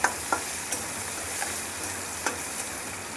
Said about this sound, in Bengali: পেঁয়াজ রসুনটাকে একটু ভালো মতো ভেজে নেব নেড়ে চেড়ে।